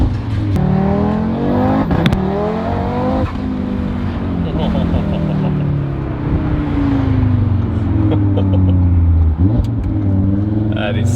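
A tuned Audi RS3 8Y accelerates hard through second gear, its engine note climbing in steady loud sweeps with sharp shift cracks, heard close from inside the cabin with occupants talking over it.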